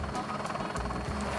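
A helicopter flies over São Paulo, its steady low rotor drone and throbbing thump filling the short stretch, loud and continuous with no talk.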